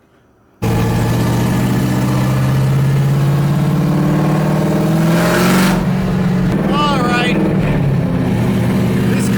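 After a moment of quiet, the LS3 V8 in a Nissan 240SX starts and runs steadily at mid revs during a drive around town, a loud continuous engine drone that swells slightly before settling.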